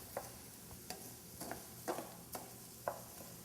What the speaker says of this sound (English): Let's stir that around.